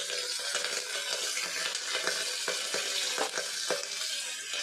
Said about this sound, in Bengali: তেলটা আমার গরম হয়ে গিয়েছে এর মধ্যে আমি লঙ্কা পেঁয়াজটা দিয়ে দিলাম